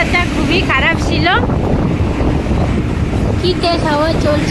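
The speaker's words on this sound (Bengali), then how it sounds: "কি তেজ হাওয়া চলছে কোথায় বলা যাচ্ছে না।" Strong gusts blast into the microphone on an open road on the way to a motorcycle showroom, a loud constant roar of wind buffeting throughout, with brief voices surfacing under it.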